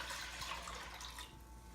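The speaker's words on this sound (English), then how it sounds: "Then we are going to put in our 2 cups of distilled white vinegar." Distilled white vinegar being poured into a container of water, a steady broadband liquid pour that runs evenly and then eases off near the end, close by with no talking.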